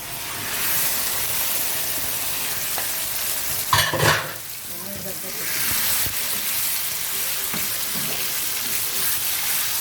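Liver frying in a pan, a steady bright sizzle with a loud hissing burst partway through as pieces drop into the hot oil, then continued crackling, close and fairly loud.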